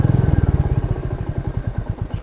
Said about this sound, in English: you can hear the hum of the engine, listen.